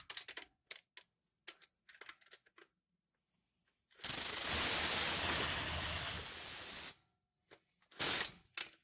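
A ratchet tightens a bolt on a fuel line fitting. Scattered close clicks and handling noises are followed by a loud, sustained hiss-like burst about three seconds long, then one more short, sharp burst.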